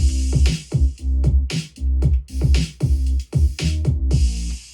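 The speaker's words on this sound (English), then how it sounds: "here's the bass that comes with it" A punchy electronic bass line pulses in a steady, repeating pattern, with deep low notes locked to a beat and crisp hi-hat hits on top. No voices.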